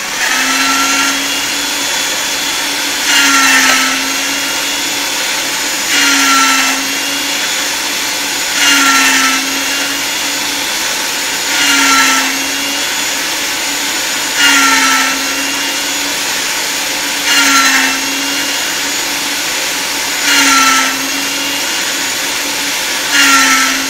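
A pasta machine folds and rolls polymer clay for a daffodil flower cane, giving a loud steady motor whine broken by regular surges about every three seconds, with no talking.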